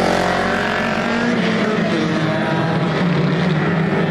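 Race cars howling around the oval at Showtime Speedway on Easter night, a dense pack of engines roaring loudly as they charge into the turn, with a brief lower rumble at the start before the full field noise takes over.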